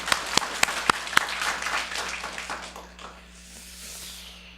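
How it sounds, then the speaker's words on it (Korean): A church congregation breaks into applause during a Korean sermon, opening with several sharp separate claps before swelling into a steady crowd clapping that fades into a softer, thinner patter by the end. "우리 격려의 박수 부탁합니다."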